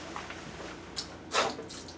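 Water from a hot water tank's drain hose splashing into a basement sump pit, a soft steady trickle under a low hum with a few brighter gurgling splashes partway through.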